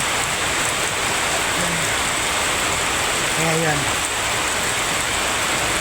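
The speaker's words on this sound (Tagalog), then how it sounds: "lalong lumalakas yung ulan kaya hindi pa ako makasulong sa ulan" Heavy rain pours steadily in a dense, loud hiss that keeps building, with someone talking briefly under the downpour.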